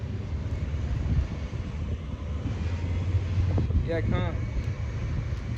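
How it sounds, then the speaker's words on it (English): Wind blowing outdoors, a steady low buffeting rush against the microphone throughout, with a person speaking briefly partway through. "And it's like it's pretty windy."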